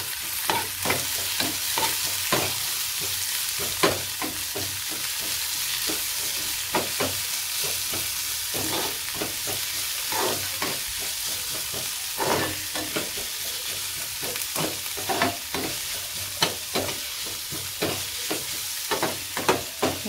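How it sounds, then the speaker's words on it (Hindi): Poha being dry-roasted and stirred in a pan, with a steady low sizzle and frequent rhythmic scraping strokes of a spoon against the pan that continue throughout. "अब हम इसको 1-2 मिनट तक भून लेंगे ताकि इसमें हल्का ब्राउन आ जाए"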